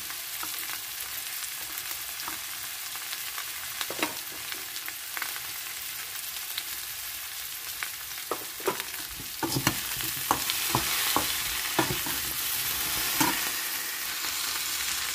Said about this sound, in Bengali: আলু বেগুন সব ভালো ভাজা হয়ে গেছে।